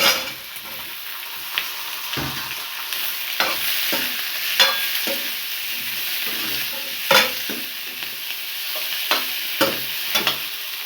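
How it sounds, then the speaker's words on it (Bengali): Boiled potatoes fry in a pan while being stirred, a continuous sizzle broken by repeated scraping knocks of the spoon against the pan, close and fairly loud with no speech. "এবার আমি আলুগুলো দিয়ে দেবো, আলু সিদ্ধগুলো।"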